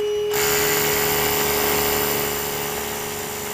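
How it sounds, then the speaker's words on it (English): A power drill boring a 3/4 inch hole into a concrete floor starts abruptly and runs steadily with a loud, high-pitched whine and grinding, easing slightly toward the end. "I'm now going to drill a 3/4 inch diameter to a depth of 2 inches."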